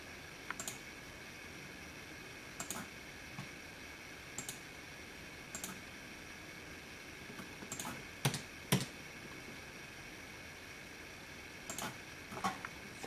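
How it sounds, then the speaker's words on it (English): Keyboard and mouse clicks while operating an Android TV box (Tronsmart Vega S89 or Rikomagic MK902), heard as sparse, faint clicks and short taps spaced a few seconds apart over a quiet background hum. "I'm just going to use the keyboard and mouse here."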